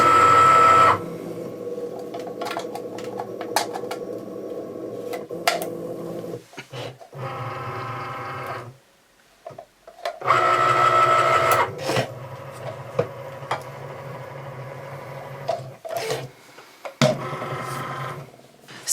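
A Cricut cutting machine runs in bursts, its motor whirring and buzzing up close with short pauses and shifts in pitch as the carriage moves, and occasional clicks in between.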